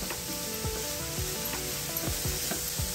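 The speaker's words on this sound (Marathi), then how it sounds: "परतत राहायचं आहे।" Grated coconut and milk are stirred in a hot pan, with a steady bubbling sizzle and rhythmic scraping strokes of the spoon, close and continuous.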